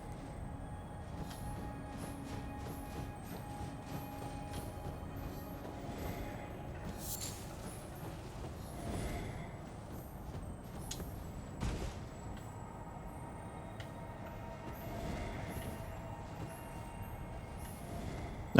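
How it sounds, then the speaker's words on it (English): A continuous low rumble of rolling rail cars with clanks and faint squeals, steady and somewhat distant throughout. "Sorry, trains in the background."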